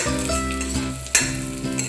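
Garlic and chilli paste fries in hot oil with a dense close sizzle and one sharp scrape of stirring midway, under a steady low tonal hum, with no voices.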